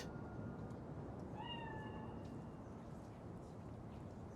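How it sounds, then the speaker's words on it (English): A cat meows in the video game Cyberpunk 2077, a single short call over a steady low ambient hum. "Chill. It's just a cat."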